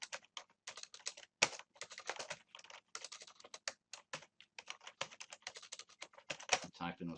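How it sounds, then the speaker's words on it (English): Rapid, irregular clatter of keys on a computer keyboard, close and continuous, with short pauses between bursts of typing. "I'm typing as fast as I can"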